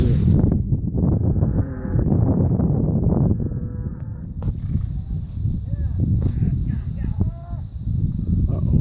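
Cattle being gathered off a mountain moo repeatedly, several deep bellows near and farther off amid a dense herd rumble, with people talking in between.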